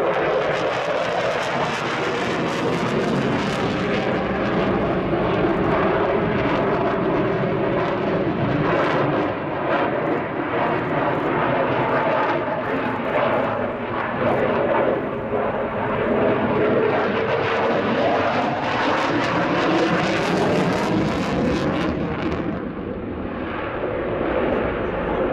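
A Belgian Air Component General Dynamics F-16AM Fighting Falcon roars through a flying display at RIAT, a loud sustained jet rumble with a swelling, shifting pitch as it passes and turns.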